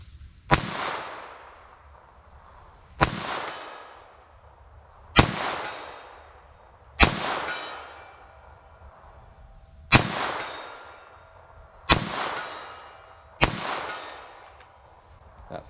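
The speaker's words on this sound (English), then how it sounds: "So 22 long rifle, I'm gonna aim center mass," Seven sharp .22 Long Rifle gunshots fired one at a time at a target outdoors, spaced roughly two seconds apart, each a loud crack with a short decaying echo.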